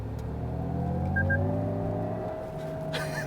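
Simulated engine sound inside the cabin of a Lexus ES 500e electric car, a quiet synthetic drone whose layered tones rise gradually in pitch as if revving, then settle.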